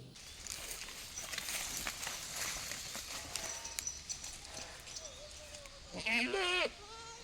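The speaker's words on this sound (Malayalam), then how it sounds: "ആടുകളും അതിൻ്റെ കുഞ്ഞുങ്ങളുമാണ്" Goats and their kids bleat a few times near the end, wavering cries over a steady outdoor background with faint shuffling and some distant voices.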